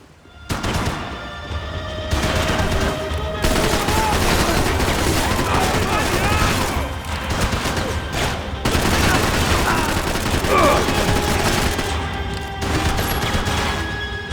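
Heavy sustained gunfire fills a Max Payne 3 firefight, with rapid shots and crackling bursts running almost continuously for over ten seconds alongside impacts and a game music bed, loud and close.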